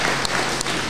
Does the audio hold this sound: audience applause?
yes